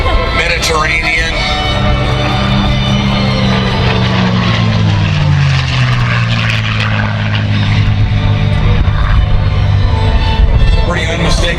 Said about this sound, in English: Pretty unmistakable sound from that Packard Merlin engine.